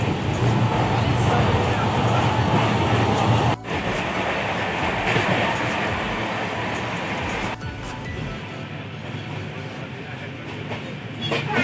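Jan Shatabdi express passenger train riding on the rails, heard from inside: a steady loud rumble and rattle with rail clatter throughout, a couple of sharp jolts, and faint voices in the background.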